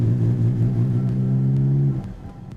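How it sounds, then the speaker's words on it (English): Car engines revving hard in a racing video game, a Lamborghini LP560-4 Gallardo against a Koenigsegg CCR Evolution, a loud sustained drone that drops off abruptly near the end, with no talk. "This race is the Lamborghini LP560-4 Gallardo versus the Swedish Koenigsegg CCR Evolution."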